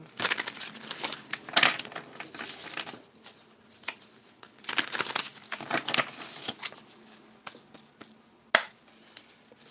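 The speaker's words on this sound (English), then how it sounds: "Two more shuffles, thank you." Tarot cards are shuffled by hand in quiet, close bursts of crisp riffling and flicking, separated by short pauses with no talk.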